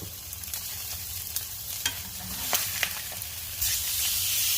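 A ribeye steak sears in a hot cast-iron pan after being flipped, giving a loud, continuous sizzle with crackling pops and a few sharp spatula clicks, the hiss swelling near the end.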